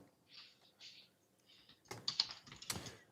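Keystrokes on a computer keyboard, soft scattered taps at first, then a louder, denser burst of clicking and clacking near the end, alone without talk.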